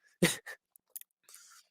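A single sharp sneeze bursts out close by, followed by a softer exhale and a few small mouth noises.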